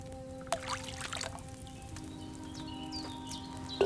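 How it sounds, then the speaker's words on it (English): Wine is poured into a cauldron in the video game Kingdom Come: Deliverance 2 as faint trickling and splashing over a steady low hum, with a few brief clinks. No one talks. "First, you have to pour the right base into the cauldron."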